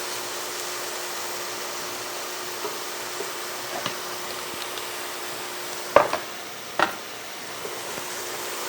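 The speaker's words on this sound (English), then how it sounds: "We'll just saute that for about 5 minutes." Leftover vegetables sautéing in a pan for a turkey pot pie, a steady soft sizzle with a few sharp clicks of a utensil against the pan.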